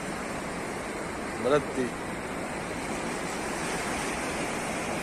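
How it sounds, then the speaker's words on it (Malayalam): Sea waves break on the shore at Beypore in a steady, rushing wash of surf. A person speaks briefly over it. "തെര എങ്ങനെ അടിക്കുക"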